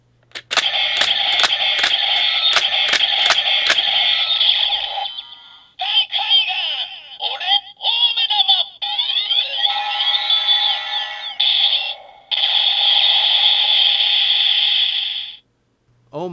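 DX Ghost Driver toy belt playing its alternate finisher: a burst of sharp rhythmic clicks, then bright electronic chimes and tones in several segments, fairly loud and close, ending in a short pause and a final blip.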